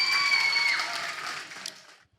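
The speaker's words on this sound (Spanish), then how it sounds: "Vamos a dar un fuerte aplauso, por favor, a estos estudiantes." Audience applause for secondary-school students at a reading competition, a dense wash of clapping that holds steady and then tapers off to silence.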